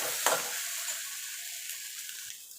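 Spatula scraping and stirring a thick yardlong bean mash in a hot wok, soft sizzling hiss with a few light clicks of the utensil against the pan, close and fairly quiet.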